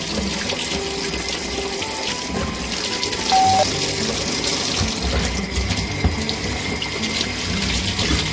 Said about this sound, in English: We want to get hot water.